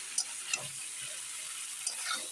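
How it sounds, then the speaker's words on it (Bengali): Cauliflower curry sautéing in a pan, a steady soft sizzle with a few brief scraping stirs, close and quiet with no talking. "দেখো সুন্দর করে কষিয়ে নিচ্ছি"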